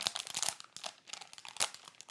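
A plastic bag crinkles as a filter is pulled out of it: close, dry, crackling rustles come in quick uneven bursts for about two seconds, with no talking.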